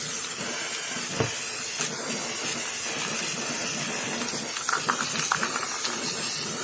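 Primer sprays in several coats onto gun parts, a loud, steady aerosol hiss that runs unbroken throughout, close up, with a few faint knocks and clicks beneath it and no one speaking.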